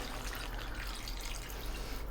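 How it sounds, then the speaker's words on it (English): Water poured steadily into a pot of chicken stew, a continuous close splashing fill with no talking, lasting a couple of seconds. "Then we're going to add water."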